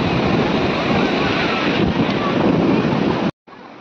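Ocean waves rolling onto a beach at Puri, a loud close surf wash with wind rumbling on the microphone, steady until a brief dropout near the end.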